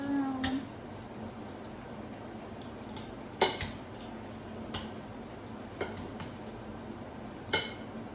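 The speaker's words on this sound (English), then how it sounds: "Stir that around." Adobo seasoning and paprika stirred around in a pan: a quiet background with a few sharp utensil clinks and taps against the pan spaced several seconds apart.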